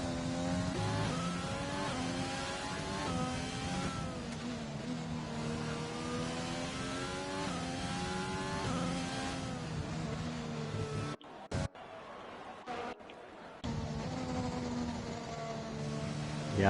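An F1 car in a racing video game, set at Italy, screams through a hot lap, its high engine note climbing and dropping through gear changes in a steady, loud run, cutting out in brief gaps near the end.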